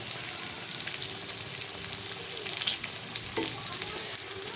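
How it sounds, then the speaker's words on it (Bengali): Beef kababs shaped like fritters fry in a pan of oil, a loud, steady, close sizzle with occasional stirring and turning clatter, and no voices. "ভাজতে থাকি, একটু ঘুরিয়ে দেই।"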